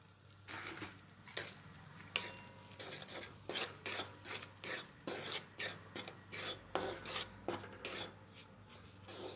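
Wheat flour roasting in a pan on low heat while a spoon scrapes and stirs it, a steady series of close rasping strokes in an even rhythm.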